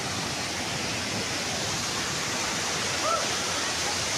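Cambugahay Falls roars as a steady wash of rushing water, broad and constant, with a faint voice briefly audible near the end.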